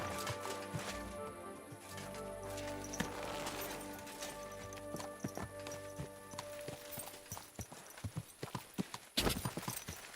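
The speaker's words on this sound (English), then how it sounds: "Easy, good horse." Horse hooves clip-clop steadily in the medieval game Kingdom Come: Deliverance 2, with the hoofbeats growing sharper and more prominent toward the end over a music and ambient background, and no speech.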